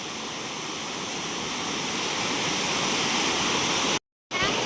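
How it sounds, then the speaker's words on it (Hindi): A waterfall with water pouring down from above, a steady, full-bodied roar that stays loud and constant throughout, broken only by a brief dropout near the end. "यहाँ पर देखो बहुत ही प्यारा वाटरफॉल हो रहा है, ऊपर से पानी आ रहा है"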